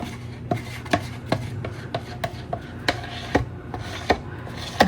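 Resin is scraped and stirred in a container, producing close, rhythmic scraping strokes roughly twice a second over a quiet background, with no talking.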